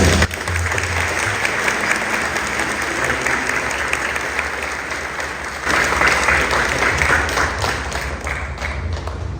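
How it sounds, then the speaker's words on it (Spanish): A church congregation applauds after a solemn Mass honoring Saint Nicholas of Bari, with steady, full clapping that swells slightly partway through, alongside a low hum in the room. "les damos un aplauso"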